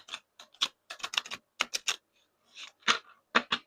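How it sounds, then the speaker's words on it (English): A new, stiff deck of playing cards is shuffled by hand, a string of sharp, close riffling clicks in quick bursts with brief pauses between, no talking. "Let's shuffle the deck."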